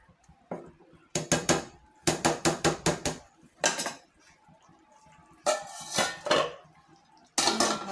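A metal lid is set over a pot of biryani on a stove, producing a series of sharp clanking and rattling metallic knocks in quick bursts, close and loud, with pauses between groups of hits.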